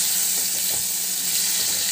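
Potatoes, cauliflower and white eggplant fry in a pan for a fish curry, giving a steady, close hiss of sizzling oil with faint stirring, no voices.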